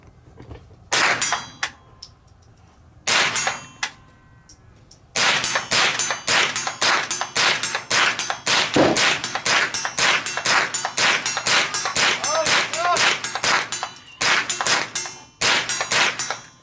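Rifle rounds striking a steel target at 50 yards on an outdoor range, a long run of sharp metallic clangs with cracks, first spaced apart then fired in quick steady succession, loud and close.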